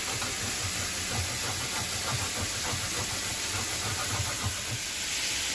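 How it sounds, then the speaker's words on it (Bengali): Ginger sizzles hard in hot oil as it is tempered for a fish curry, a dense, continuous loud hiss with a faint crackle that holds steady throughout. "তো আদাটা ফোড়নে পুড়ে দেবো।"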